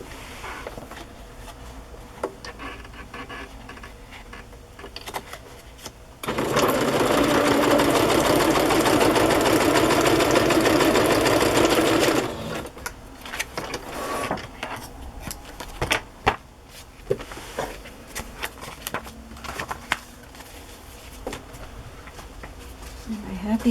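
A domestic sewing machine stitches fabric journal pages, a loud, even whirring run of about six seconds, with handling clatter and rustle before and after.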